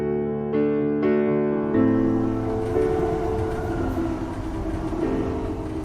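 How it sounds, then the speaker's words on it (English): Busy concourse ambience at Waterloo train station in London, a steady loud wash of crowd and rail noise with tonal hums and a siren-like drone, several sharp onsets early on, no clear speech. "Today, I'm standing in Waterloo train station, just off the south bank of the River Thames."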